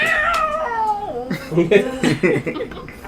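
A human voice imitates fighting cats, yowling and caterwauling in a sliding, wailing pitch, then breaking into choppy yelps and snarls.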